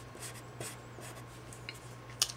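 Chalk or marker writing an equation on a board in a quiet room, with soft scratchy strokes in short bursts and one sharper tap near the end.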